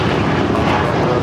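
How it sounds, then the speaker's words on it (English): Porter Airlines Canada Embraer E195-E2 jet taking off from LAX, a loud sustained broadband engine roar filling the short stretch at close range. "662, operated by Porter Airlines Canada, taking off to Toronto in the E195 E2"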